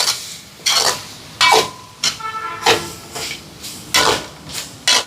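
Prawns and egg are stirred with noodles in a pan, producing repeated loud metallic scraping and clattering strokes in bursts, close and with no talk.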